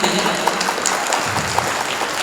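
A mushaira audience at an Urdu poetry gathering claps in a continuous, fairly loud wash of hands. A few sharper individual claps stand out now and then.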